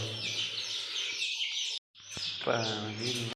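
High, busy chirping from chicks fills the clip, broken by a brief silence, then resumes with several peeps overlapping.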